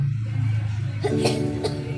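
A child in a Vicks VapoRub advert gives a short burst of close coughs over a low background hum, with a brief sharp catch of breath.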